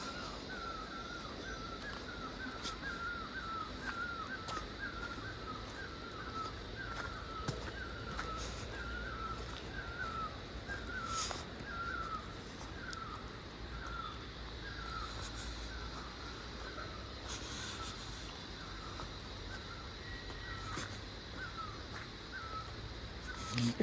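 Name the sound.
birds calling in a Kurseong forest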